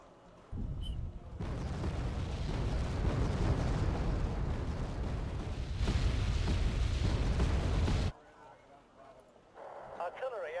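Artillery shells exploding in Wargame AirLand Battle, a long loud rumbling barrage that cuts off abruptly, followed by a brief quieter stretch with some faint voice-like game audio.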